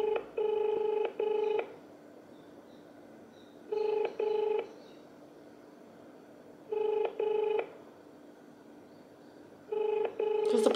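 A phone call to a coffee shop rings out unanswered, with four evenly spaced double-ring bursts of the ringback tone, heard clearly through the handset against a quiet background.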